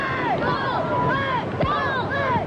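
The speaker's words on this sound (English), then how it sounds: "And they're giving a little cheer out" Lincoln Student Council gives a short cheer and shout-out from a passing homecoming parade float, a steady crowd hubbub of voices with rising and falling calls, moderately near and continuous.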